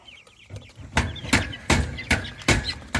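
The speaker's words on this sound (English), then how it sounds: "Rooster first." Rooster being let out of a chicken coop gives a series of sharp clucks and squawks, close and loud, with wooden knocks and rustling between the calls and no voices.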